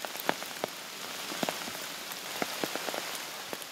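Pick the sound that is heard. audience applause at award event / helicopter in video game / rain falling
rain falling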